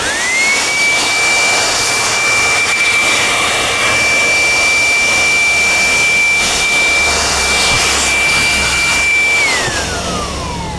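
A brand new electric blower blasts dust out of a decade-old desktop PC with a loud, steady high-pitched roaring whine that holds for about ten seconds, then winds down at the end.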